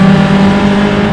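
Formula 500 single-seater race cars howl past at a circuit race, a loud, unbroken, close engine drone filling the whole moment with no talking.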